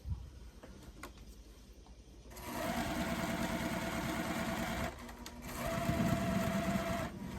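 Sewing machine stitching a very scant quilt seam, running steadily in close, continuous bursts that grow louder midway, with a brief lull near the start.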